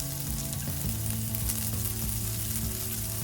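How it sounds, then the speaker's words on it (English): Sliced onions fry in hot ghee and oil with whole spices over a medium-high flame, giving a close, steady sizzle and crackle with no talking. "And on medium to high flame, we'll fry the onions for about 2 minutes until the color slightly changes."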